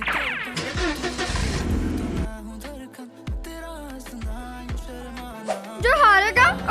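Cartoon race cars starting up and revving in bursts, with whooshing effects and background music, while characters talk excitedly over the engines.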